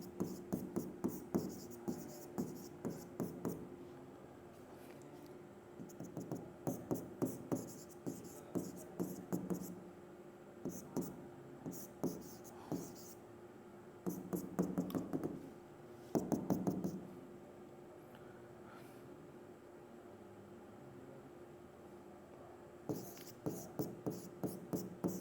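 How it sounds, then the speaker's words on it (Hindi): Pen scratching across paper in short bursts of strokes, close and quiet, pausing now and then while someone talks through a trigonometry problem in Hindi. "चलिए तो कुछ लिख देते आगे पहले"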